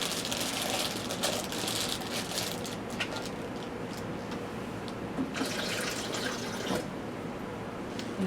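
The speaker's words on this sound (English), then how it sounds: "I'm going to just put a little water in the bag right here" Water pours steadily into a zip bag with a continuous, gentle splashing trickle that runs unbroken and fairly close.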